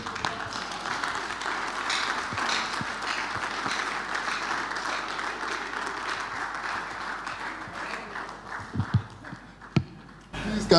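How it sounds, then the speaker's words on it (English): Audience applause at a session on investment in money and capital markets, a fairly quiet wash of clapping that thins out toward the end, with a few sharper claps and sounds near the close. "Please, can we give him another round of applause?"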